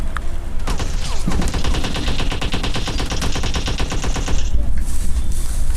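Rapid automatic gunfire from PUBG Mobile Lite rattles in loud, dense, evenly spaced bursts, one volley after another with brief gaps, close and dominating throughout.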